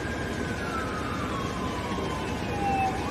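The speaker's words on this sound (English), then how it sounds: "I've been hearing nothing but sirens since I got" An emergency vehicle siren wails during severe weather, its tone sliding steadily downward at a moderate distance over a noisy street background.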